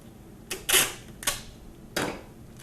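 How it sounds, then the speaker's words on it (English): Packing tape pulled and pressed onto a box lid to seal it shut, heard as a few short, sharp rips and crackles, close and fairly quiet, with no talking. "we're going to go ahead and tape the lid down so it doesn't move around during transit"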